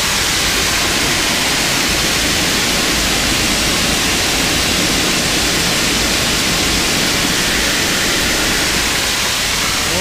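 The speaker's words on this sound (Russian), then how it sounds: "Там забортная вода бежит." Seawater pouring overboard from a ship near the anchor chain on deck, a loud, dense, unbroken rushing roar like a waterfall that fills the whole stretch with no pauses.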